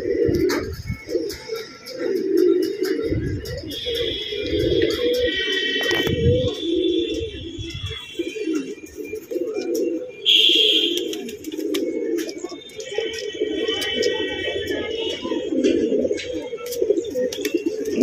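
Domestic pigeons cooing at dusk during a flying session, soft throaty coos repeating across the scene with occasional wing flaps, bright chirps and distant ambient noise, no talk.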